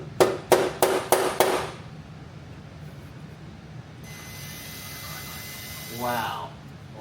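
Punch struck with a hammer against a screw extractor in a Honda Trail 70 motorcycle part: five sharp, evenly spaced metallic blows close up at the start, followed by quiet room tone and a brief voice later.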